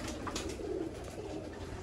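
Pigeons of a champion rooftop fancier's flock coo in soft, rounded low calls that repeat close by against a faint background hiss, with no talking.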